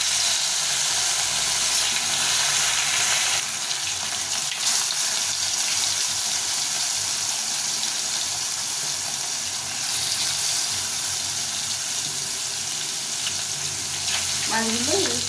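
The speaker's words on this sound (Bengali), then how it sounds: "কড়াইতে তেল দিয়েছি, সয়াবিন তেল দিয়েছি। ওই তেলটাকে দিয়ে মাছটা ভেজে নেব।" Pieces of snakehead fish fry in soybean oil in a wok, giving a steady, dense sizzle that holds at an even level throughout, with a brief watery clatter near the end.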